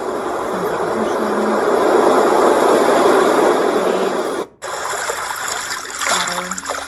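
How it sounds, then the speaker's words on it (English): Ocean setting on a Dreamegg portable noise machine plays a steady, washing broadband hiss that swells and fades, then cuts out briefly before a different, softer sound starts. "Sounds like an ocean."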